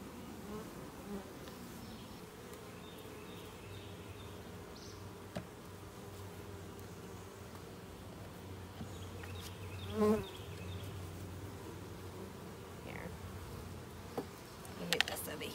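Honeybees buzzing around an opened hive during a frame-by-frame inspection: a steady, fairly quiet droning hum that runs throughout, with occasional louder passes as individual bees fly close to the microphone.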